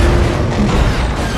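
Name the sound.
car crashing into oil tanker truck, explosion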